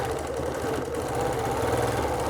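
Sewing machine stitching a quilt along a ruler, a steady fast mechanical whirring hum with rapid needle chatter, continuous and close, with no talking.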